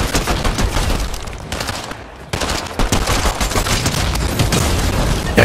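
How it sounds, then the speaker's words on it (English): Loud sustained gunfire in the video game Fortnite, continuous rapid shots packed into dense bursts with a brief lull near the middle, close and harsh, with no talking. "Shots fired."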